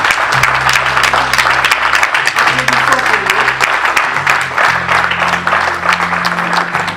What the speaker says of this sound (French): nous allons applaudir pour l'Éternel des armées.